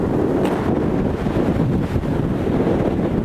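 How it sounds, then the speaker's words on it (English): Strong wind roars steadily into the microphone as a Portugal wildfire draws air in, a loud continuous rushing buffet with no speech. "That wind has become monumental."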